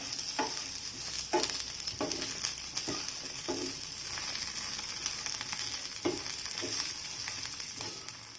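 Ivy gourd masala crackles quietly in oil with a steady low sizzle, broken by a series of soft, regular scrapes and knocks as a spatula stirs it, close by and with no talking.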